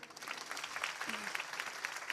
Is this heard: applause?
yes